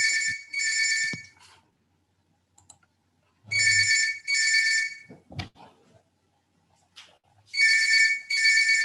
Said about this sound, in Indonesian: Oh, ada telepon.